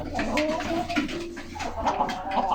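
A spare speckled rooster of mixed breed gives soft, low cooing calls in a few short bursts, close and fairly quiet, with brief pauses between them.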